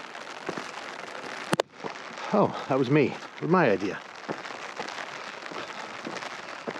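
Steady monsoon rain hisses in a canyon on the Hieroglyphic Trail while a person speaks, with a sharp click partway through.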